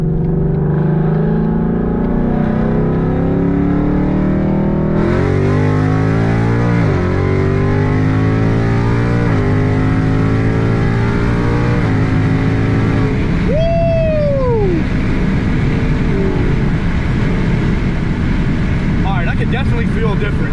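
A Mustang fitted with longtubes and a Borla ATAK exhaust pulls hard in track mode, its loud engine note climbing through several paddle-shifted gears, with a sharp whine rising mid-pull and a steady rumble after.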